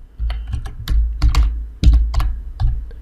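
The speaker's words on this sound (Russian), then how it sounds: "Я набрал какой-то произвольный текст и пока запятую не ставлю." Fingers type on a computer keyboard at close range, producing quick, irregular bursts of clicking keystrokes with brief pauses, and no one talks.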